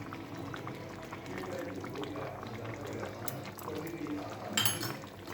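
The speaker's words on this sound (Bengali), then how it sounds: "আর একটু ভালো করে সেদ্ধ হোক" Jackfruit curry bubbles and simmers in a pot, a continuous soft boiling hiss with small pops and gurgles, plus a brief brighter sizzle or splash toward the end.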